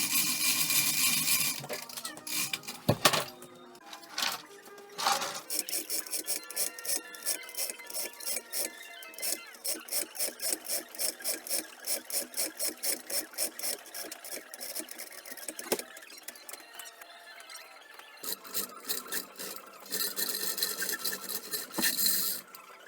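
Bolts are removed from a casting mold with a tool making a steady, rapid rasping, ratcheting rhythm for a long stretch, close by, with louder grinding bursts at the start and end and no talking.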